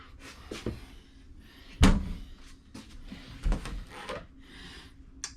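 Wooden cabinet drawers in a tiny house's hallway cabinetry are pulled out and pushed shut, giving a few knocks and slides, with one sharp close near the middle and another thud later, close by, with no talking.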